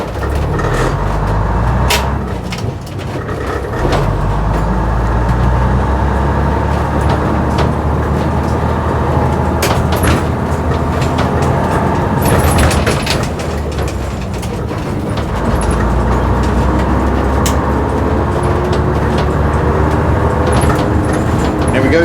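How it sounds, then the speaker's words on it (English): Leyland Atlantean bus engine accelerating up a motorway slip road, a loud steady diesel drone with rising tone, heard from inside the vehicle with continuous rattling and road noise. "Here we go, taking a bus on the motorway."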